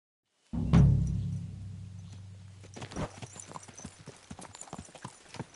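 In the video game Kingdom Come: Deliverance II, horse hooves clop in an irregular series after a loud thump at the start, continuing steadily at close range.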